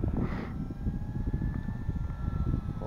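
A small E-Flite UMX Timber RC airplane with an electric motor flies on two 500 mAh 2S packs, giving a steady thin whine over gusty wind buffeting the microphone.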